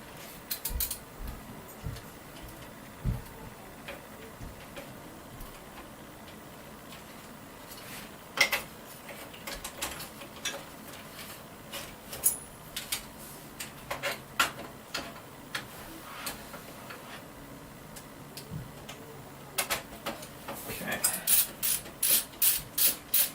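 Bolts being unscrewed from a PC case during an upgrade, with repeated ratcheting clicks and metallic ticks that come in irregular bursts and grow denser and louder toward the end.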